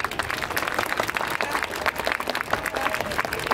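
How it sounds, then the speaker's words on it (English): Audience applause at a Universal Studios Japan live pop show, a dense crowd clapping steadily and loudly with scattered cheers throughout, sustained without pause. "If you are enjoying the show, why don't you show us with a round of applause?"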